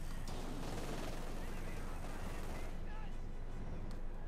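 Dense gunfire rakes German Grenadiers in the World War II strategy game Company of Heroes 2, a loud, continuous clatter of overlapping shots and battle noise that thins slightly toward the end.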